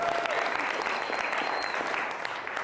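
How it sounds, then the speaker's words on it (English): An audience at a keynote speech claps steadily in a sustained, dense wash of applause that holds at an even level for the whole stretch, with a few faint whistles. "Give her a round of applause."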